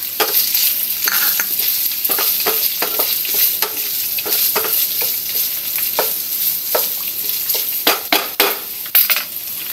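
Garlic and onion sizzle loudly in hot oil in a pan while being stir-fried for sautéed bean sprouts, with a steady crackling hiss broken by repeated scrapes and clinks of the utensil.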